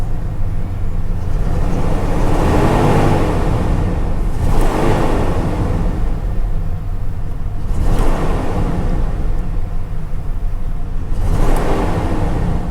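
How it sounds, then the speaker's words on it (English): A Ford OBS truck engine rumbles under throttle, hesitating and fluttering, with a rough, uneven drone that surges in waves about every three to four seconds, close and loud. "It has a little flutter right there when you start giving it the gas."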